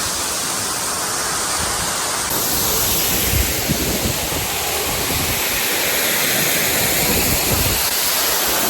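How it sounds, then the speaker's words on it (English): Steady broadband rush of a waterfall near a town on the French Riviera, a dense continuous roar holding evenly for the whole stretch with no voices over it. "This is a beautiful waterfall."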